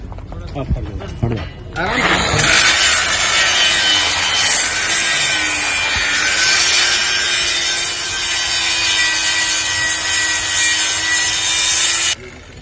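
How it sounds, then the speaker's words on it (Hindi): A fitter runs a grinder on metal during finishing work: a loud, harsh, continuous grinding roar lasting about ten seconds after a few brief clatters, then cutting off abruptly. "ग्राइंडर।"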